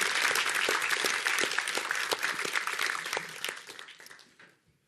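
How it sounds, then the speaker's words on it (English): Audience applause at a live keynote event, a dense wash of many hands clapping that sustains loudly for several seconds and then tapers off to silence. "give him a round of applause"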